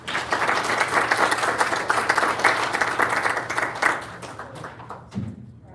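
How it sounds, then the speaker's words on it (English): Audience applause for graduates at a Coast Guard DCO class graduation ceremony, a dense, sustained roomful of clapping that holds steady for several seconds, then thins out and fades near the end. "let's have one more round of applause for the graduates"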